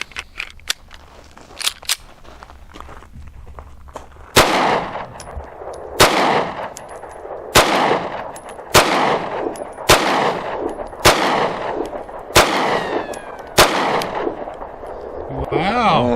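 FN Reflex 9mm pistol with a green dot optic fired at an outdoor range, nine loud, sharp shots at a steady pace of roughly one every one to two seconds, each ringing out with a short echo.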